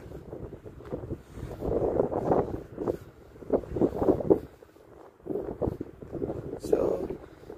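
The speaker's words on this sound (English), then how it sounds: "the weather is very windy too" Wind gusts across an open park field, rumbling steadily into the microphone with swelling and fading surges over a quiet morning recreation ground.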